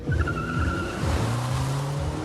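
A turbocharged 2020 Volkswagen Jetta accelerating hard, its tires squealing in a loud, sustained screech over a rising engine note, with no voices.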